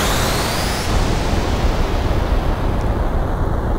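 Weapon firing in Xenogears, a loud, broad roaring blast with a falling high whine at the start, sustained noisy rush afterward, no talking.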